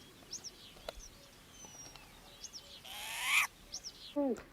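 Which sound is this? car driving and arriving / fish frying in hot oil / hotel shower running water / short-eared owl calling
short-eared owl calling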